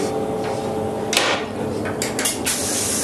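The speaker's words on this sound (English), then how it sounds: "Once again, a vacuum toilet." A vacuum toilet aboard a train flushes nearby with a sharp hiss and a rushing gush, followed by several short bursts of air suction.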